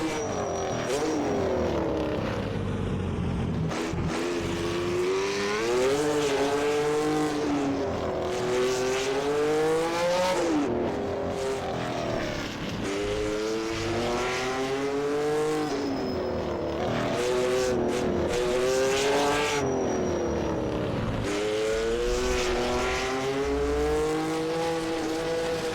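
A 1964 race car on the Targa Florio in a racing game screams through continuous high revs, with repeated throttle blips and rising and falling gear changes on corner entry, loud and close throughout with no talk.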